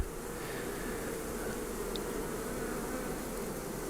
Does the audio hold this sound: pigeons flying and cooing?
no